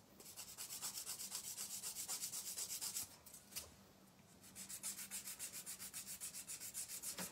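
Nail file rubbing back and forth over a CND Plexigel nail extension in steady rhythmic strokes, close and fairly quiet, with a short pause midway before the filing resumes at the same even pace.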